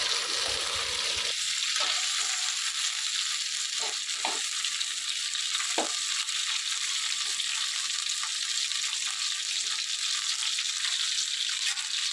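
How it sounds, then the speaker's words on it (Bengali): Pieces of jackfruit fry in hot oil with a dense, steady, loud sizzle that holds throughout, dotted with occasional small pops and soft stirring scrapes, close up and with no voices. "এঁচড়গুলো দু তিনবারে অল্প অল্প করে দিয়ে আমি এঁচড়গুলো ভালো করে ভেজে নেব"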